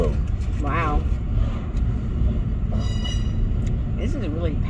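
A heavily loaded stack train rolls steadily past nearby, a continuous low rumble and rattle of wagons throughout, with people talking over it.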